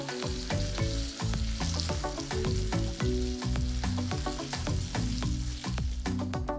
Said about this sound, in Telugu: నాలుగైదు ఎండుమిరపకాయలు పావు టీ స్పూన్ ఇంగువ కొన్ని కరివేపాకులు కూడా వేసి వేయించాలి